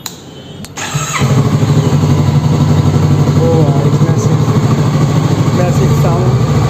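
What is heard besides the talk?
Kawasaki Vulcan S 650cc motorcycle engine running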